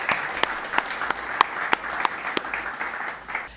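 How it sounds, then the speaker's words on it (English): An audience applauds award winners from primary and secondary schools on Nevis, a steady round of clapping with a few sharp, louder claps standing out near the listener. "I think that this deserves a rounding round of applause"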